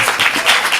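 Audience clapping at a youth improv comedy show, a brief burst of dense, close applause.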